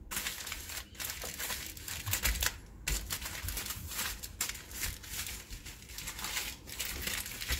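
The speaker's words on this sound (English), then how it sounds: "and wrap it up in aluminum foil, like so." Aluminum foil being folded and wrapped around a fish in a kitchen, a steady run of close crinkling and crackling rustles with brief louder crumples, no talking.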